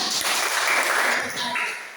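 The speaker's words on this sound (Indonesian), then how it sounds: "Tepuk tangan" Students in a classroom clap for a presenting group, a short burst of dense applause that swells and then tapers off near the end.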